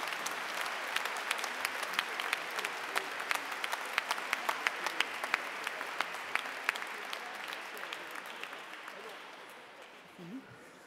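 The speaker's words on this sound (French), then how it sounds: "Applaudissez pour vous-même." A congregation applauding at the end of a family Easter-season Mass in church, dense sustained clapping from many hands that gradually fades out near the end.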